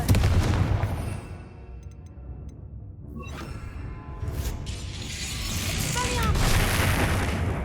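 Confringo fire-blast spell from Hogwarts Legacy erupting amid battle noise, with a rumbling burst and crackling mechanical clatter over a low steady game background, swelling toward the end.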